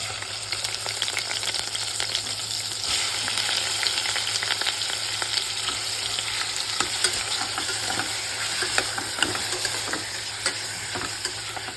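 Prawns fry in butter and garlic in a pan, a loud, close, steady sizzle with scraping stirring strokes running through it and no talking.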